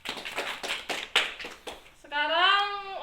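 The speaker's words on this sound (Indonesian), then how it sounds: "tepuk tangan untuk kelompok 1." Scattered claps from a school class applauding a group come as a handful of separate, uneven hand strikes, followed by a voice speaking.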